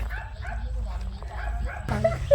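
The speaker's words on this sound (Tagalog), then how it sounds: "Talaga yung mga aso, ang dami nilang aso" Several farm guard dogs barking and yipping in short bursts near a pomelo and calamansi farm, with people talking over them.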